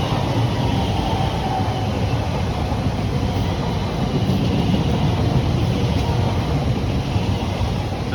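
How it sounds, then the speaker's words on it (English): A Class 345 electric train runs from Abbey Wood to Maidenhead through Acton on the Great Western Main Line, giving a steady, loud rumbling roar that holds evenly throughout without any voices. "passing through now is a 345 en route to Maidenhead"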